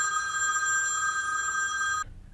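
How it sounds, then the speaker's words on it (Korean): A telephone bell rings in a 2017 French crime melodrama, a steady, bright electric ring held for about two seconds before it abruptly stops. "다시 걸려온 전화."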